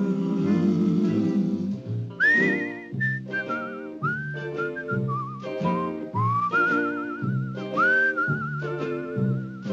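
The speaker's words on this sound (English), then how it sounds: "It's a whistling tune for walking" A lilting melody whistled solo, with vibrato on held notes and a soft accompaniment underneath, steady and close throughout.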